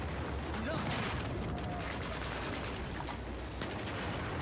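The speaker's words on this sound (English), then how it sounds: "Stop shooting at me." Rapid bursts of automatic rifle fire, including an RPK-12, crackle continuously in the video game Battlefield 4 amid in-game explosions and mechanical clatter, with a player's voice talking over the action.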